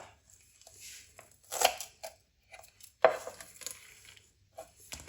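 A kitchen knife chops coriander and potatoes on a board, making a few sharp, close cutting knocks with quiet gaps and small rustles between them.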